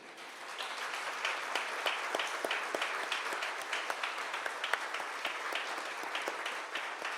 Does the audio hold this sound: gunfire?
no